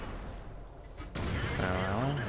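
A tank's ammo rack explodes in the World of Tanks video game: a sudden loud blast cuts in over the ongoing rumble of battle, followed by a sustained roar and a rising whine.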